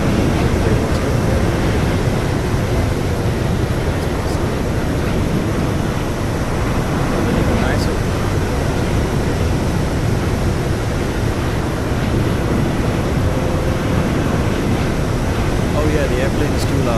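Broadband roar of PMDG Boeing 777-300ER jet engines heard from outside in a flight simulator, loud and continuous with a steady rushing texture throughout.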